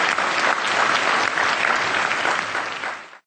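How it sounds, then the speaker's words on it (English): A large crowd applauds young performers from Mongolia after a graceful act, a full, sustained wash of clapping that holds steady for about three seconds and then cuts off abruptly. "Let's give them another round of applause."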